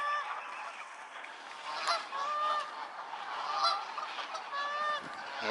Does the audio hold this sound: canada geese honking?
yes